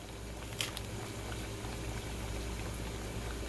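Food frying in deep fryer oil while making Cuban sandwiches: a steady, fairly quiet bubbling sizzle throughout, with a brief crackle near the start and no talk.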